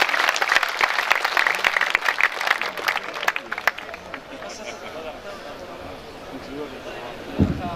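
Audience applause at a Waziristan literary and cultural festival in Bannu, a dense burst of clapping from a crowd that fades after a few seconds into quieter murmuring and hall noise.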